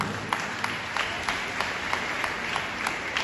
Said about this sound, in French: Merci de m'aider à apprécier leur effort par un chaud applaudissement